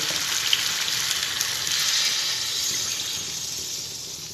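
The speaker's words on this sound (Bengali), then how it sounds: "মিষ্টি কুমড়ায় পানি দিয়ে দেবো" Water poured into pumpkin cooking in a pan gives a steady, close hiss and sizzle that runs without a break for a few seconds, with no voices.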